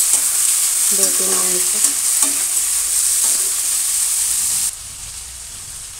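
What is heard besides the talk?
stirring moong and moth bean sabzi frying in pan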